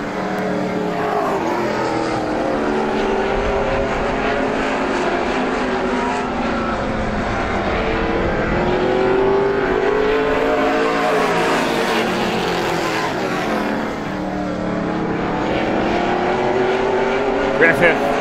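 Granite State Pro Stock race cars roar around Star Speedway during a night heat race, a loud continuous engine drone rising and falling as cars pass, with commentary over the track noise.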